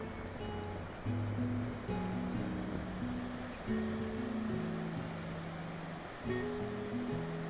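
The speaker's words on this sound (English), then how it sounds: "There's Bonneville Dam. Here's part of it. A lot of water coming through." Water rushes heavily through Bonneville Dam on the Columbia River, a dense continuous roar, with steady tones from a nearby source running on top of it.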